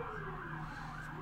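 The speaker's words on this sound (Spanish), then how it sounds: "Ignoren esas sirenas, chicos." Sirens wail in a dubbed anime scene: a faint, wavering emergency tone rises and falls steadily, heard alone for a brief moment.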